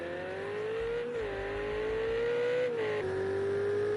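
A Ferrari GT3 race car in a racing game at Spa holds a loud, sustained engine note that climbs steadily between a couple of quick gear changes, droning continuously with no talk.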